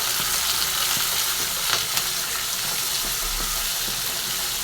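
Onions and tomatoes sizzle in hot oil for onion tamarind curry, a steady close frying hiss broken by a few light clicks of stirring.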